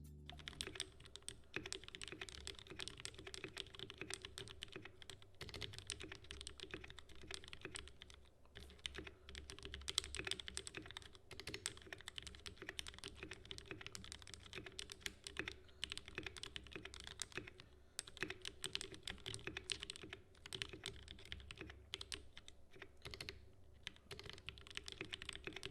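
Rapid, continuous clacking of keys on a Spider-Man-themed mechanical keyboard, close and steady, with no voices.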